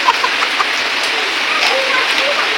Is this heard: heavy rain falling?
yes